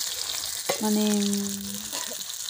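Potatoes sizzle steadily in a hot pan, with a brief tonal hum over the crackling.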